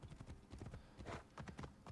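Horse hooves clip-clop in a steady galloping rhythm while riding in Assassin's Creed Origins, close and fairly loud, with faint game ambience underneath.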